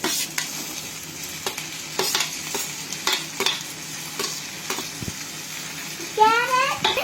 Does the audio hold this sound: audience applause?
no